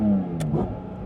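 A Porsche GT4 RS engine with a lightweight flywheel blips and then drops in revs, its harmonic exhaust note falling smoothly. It is loud and close, with no talking.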